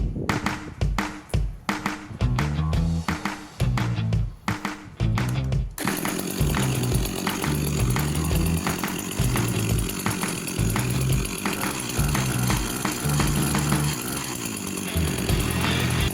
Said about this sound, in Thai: เบิ้ลเครื่องน้อยๆนะครับ